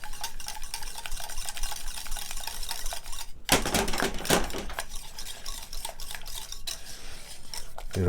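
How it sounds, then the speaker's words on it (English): Whisk rattling rapidly against a pot while stirring a salted sauce for Cheez Whiz, a dense continuous metallic clatter with a brief louder, harsher scraping flurry partway through. "And now I just start whisking that around."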